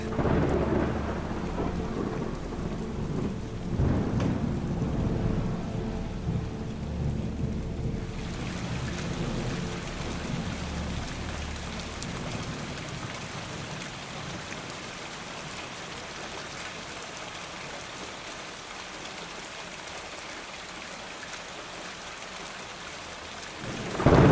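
Thunderstorm with steady rain on surfaces and a loud rumble of thunder early on, then a softer, even downpour continuing alone after the thunder fades.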